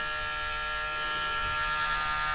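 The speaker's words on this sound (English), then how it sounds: "because I have a brand new sander head on the top of this, it's going super well" A small electric sander with a new head hums steadily at close range while trimming a dog's toenail on low speed, a continuous bright buzzing with no talking.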